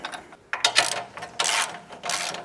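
Ratchet wrench tightening rally bar bolts on a Ford Next-Gen Ranger: three or four short bursts of close, bright metallic clicking with brief pauses between strokes.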